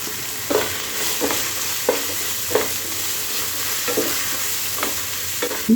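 Spiced turmeric, chili and coriander powder fry with a steady hiss while a spoon scrapes and stirs the pan in regular strokes, close and fairly loud, with no talk.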